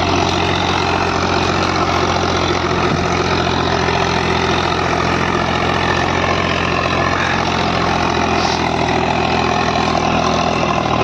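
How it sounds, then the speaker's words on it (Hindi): Mahindra 265 tractor engine runs steadily while pulling a rotavator through soft field soil, giving a loud, continuous low rumble with no letup and no speech. "ट्रैक्टर देखो चक्कर नहीं तोड़ रहा।"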